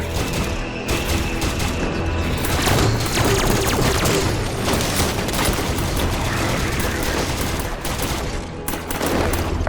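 A plasma caster fires during a Halo 5: Guardians Warzone battle, heavy booming blasts and rapid gunfire piling into a dense, loud, continuous barrage, with faint voices buried in the chaos.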